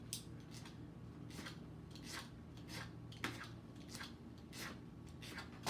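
Scissors cut through a magnet sheet in a series of regular, crisp snips, close and quiet, roughly one every half second.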